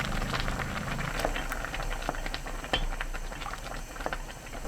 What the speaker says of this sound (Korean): 뚜껑 닫지 말고 1분 30초 끓입니다